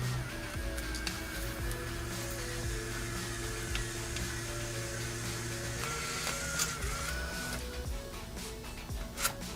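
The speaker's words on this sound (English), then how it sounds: "We see the image sliding up the screen, and it'll start sliding out of the printer." Instax Mini Link instant photo printer feeding a picture out, a steady motorized whir with stepped mechanical tones and small clicks running continuously at close range, with no voices.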